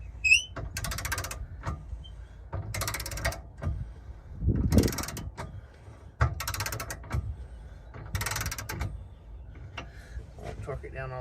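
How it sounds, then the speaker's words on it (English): Ratchet with a 15/16 socket tightening a fifth wheel hitch bolt, heard as repeated bursts of clicking ratchet strokes in a steady rhythm, close and fairly loud, with some background handling noise. "And this is a 15/16 socket. We're just going to tighten it down."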